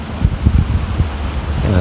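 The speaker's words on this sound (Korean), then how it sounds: "낚시터 상황이 비가 오고 바람이 불고 하다 보니까" Rain and wind buffet a microphone at an outdoor fishing spot, a steady low rumble of wind noise with gusting pulses and a patter of rain running throughout, close and fairly loud.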